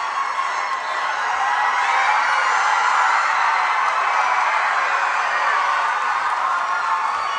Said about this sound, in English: That is some enthusiastic crowd.